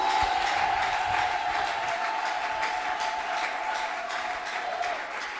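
A church congregation applauds and cheers continuously, a dense steady wash of clapping from a large crowd that holds at an even level and fades slightly at the end.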